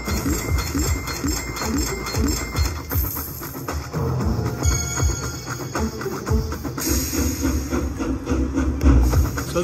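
Busy electronic slot machine game audio with a chugging, rhythmic train-like rumble and clatter, loud and continuous, layered with jingles and hissing effects.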